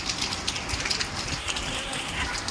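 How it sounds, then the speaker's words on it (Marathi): Heavy rain pours down in a dense, steady hiss with scattered patters and splashes, close and loud, no voices present. "पाऊस आला पाऊस किती मोठा आलाय"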